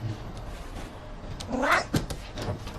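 A cat in the film A Street Cat Named Bob lets out a clear, rising meow that stands out over a low background hum, followed by a short bump.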